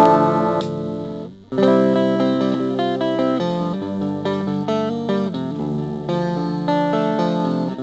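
A clean, undistorted electric guitar plays ringing chords and single notes, clear and close, with a brief pause near the start.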